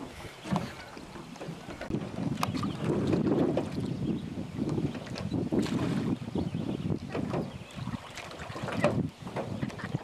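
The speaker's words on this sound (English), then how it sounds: "Jesse and Julie are paddling nowhere." Paddles working a small boat in blustery wind, with continuous rumbling wind buffeting on the microphone and soft splashing and knocking under it, steady throughout with a few louder gusts.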